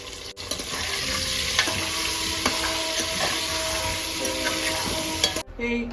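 Potato pieces with salt and turmeric fry in oil, giving a loud steady sizzle with scraping and clinking of a spatula against the pan before the sound drops away at the end.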